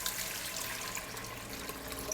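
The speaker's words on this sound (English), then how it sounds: "Add in 1 liter of water" A liter of water poured into a multi-cooker for pressure-cooking braised chicken makes a steady, soft splashing rush that stays even and fairly quiet throughout.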